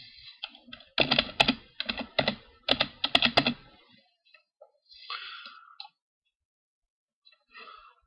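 A password being typed on a computer keyboard, heard as clusters of sharp, close key clicks in short bursts, then sparse lighter clicks and near silence toward the end.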